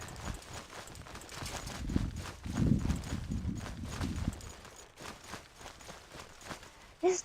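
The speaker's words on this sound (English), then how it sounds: "It's donkeys!" Donkey hooves clip-clopping in the video game Morrowind, a steady run of soft walking hoof taps that swells and then fades, faint and close, with a sharper sound at the very end.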